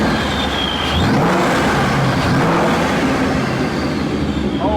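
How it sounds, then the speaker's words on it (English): A 2017 Ford Mustang GT fitted with a centrifugal supercharger is revved close by, giving a loud, steady engine roar with a rising whine on top, without talk. "because it is a centrifugal supercharger, so it's like a turbo whine"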